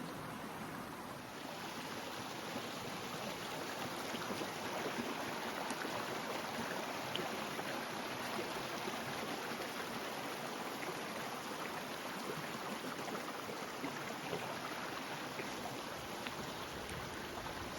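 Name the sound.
small waterfall flowing over rocks in a river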